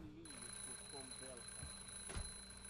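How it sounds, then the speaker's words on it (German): An alarm clock rings in the Hello Neighbor video game, a faint high electronic ringing tone sustained under someone speaking German and some in-game bumps. "Der Wecker muss ihn doch ablenken."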